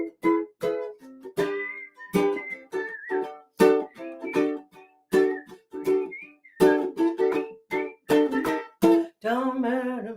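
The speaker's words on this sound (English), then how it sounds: "All right, everybody, whistle." Several people whistle together in short bursts of rising and falling tones, with brief gaps between phrases and a denser, sustained stretch near the end.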